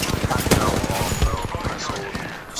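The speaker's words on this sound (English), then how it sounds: "I'm getting shot from all three squads." Gunfire in the Apex Legends video game comes as a dense run of sharp bursts over roughly three seconds, loud and near throughout, with a voice partly under it.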